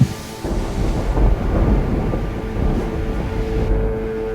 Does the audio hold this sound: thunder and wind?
yes